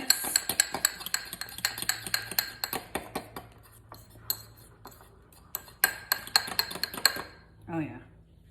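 A spoon clinks repeatedly against a bowl while dipping sauce with sweet relish and ketchup is mixed, a quick irregular run of sharp taps close by, pausing briefly, with a short voiced sound near the end.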